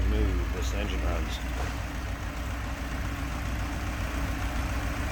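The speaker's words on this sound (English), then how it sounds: "look at how smooth this engine runs" A 1978 Fiat 124 Spider's 1.8-liter (1753 cc) engine idles smoothly and steadily up close, its low rumble continuous under someone talking.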